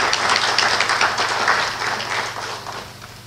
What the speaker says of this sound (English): Professor Nazar deserves a big round of applause on this particular account.